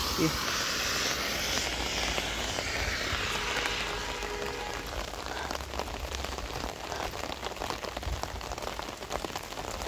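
Heavy rain drums steadily on surfaces in a loud, unbroken hiss and patter that lasts the whole stretch, with someone speaking under the downpour.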